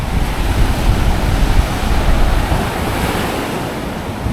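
Sea waves wash steadily onto the shore at Erdek on the Kapıdağ peninsula, a broad continuous roar of surf with gusting wind buffeting the microphone, loud and close, no voices.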